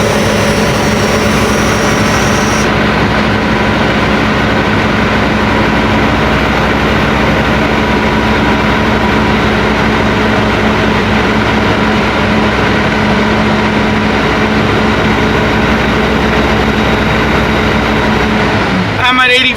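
A truck engine revs and holds a loud, steady high-idle drone up close for a long stretch, building air pressure during an inspection.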